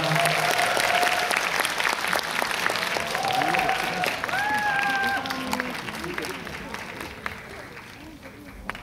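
A cinema audience applauding as the actors and director of the film The Drug King come onstage for a greeting before a screening, dense sustained clapping that gradually tapers off, with a voice speaking over it.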